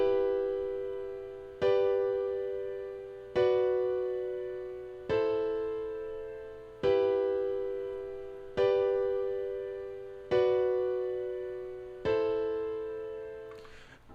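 A revoiced chord progression played in FL Studio: eight evenly spaced sustained synth chords, each struck cleanly and fading before the next, fairly quiet, with no voices.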